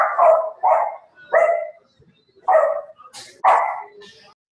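A dog barks in loud, close bursts of yapping, about five barks with short pauses between them, cutting into an online call.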